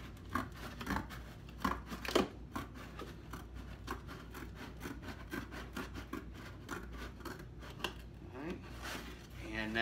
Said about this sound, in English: Here, I'm going to give it a shot with the scissors.